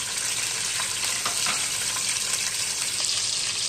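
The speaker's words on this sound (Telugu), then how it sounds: "ఆయిల్ వేడెక్కిన తర్వాత మనం ముందుగా కట్ చేసి పెట్టుకున్న ఉల్లిపాయ, పచ్చిమిరపకాయ, దాంట్లోనే 4 రెమ్మలు కరివేపాకు కూడా వేసేసుకోవాలి." Chopped onion, green chillies and curry leaves sizzle steadily in hot oil, a dense continuous frying hiss with faint stirring scrapes, close and fairly loud with no talking.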